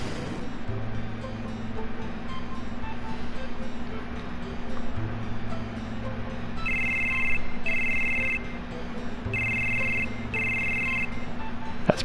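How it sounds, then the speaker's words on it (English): A phone ringing in the Final Fantasy VII video game, two pairs of shrill electronic rings over a low, steady humming background. "That's pretty good cell service to get a phone call from inside the temple."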